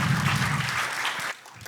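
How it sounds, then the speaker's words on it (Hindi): Brief audience applause at a foundation project's closing ceremony in India: a burst of many hands clapping together that drops away after about a second and a half, leaving faint scattered claps. "जोरदार तालियां हो जाएं"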